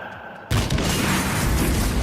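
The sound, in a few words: fireworks exploding in the video game Hitman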